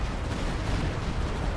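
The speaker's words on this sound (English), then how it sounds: "was a very good Stuka strike" Stuka dive bomber strike in Company of Heroes 2 lands as a dense, continuous rumble of heavy explosions, loud and close, with no quiet gaps.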